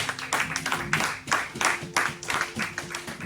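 Church congregation applauding together, a steady wash of clapping rising in repeated swells, with murmured voices beneath.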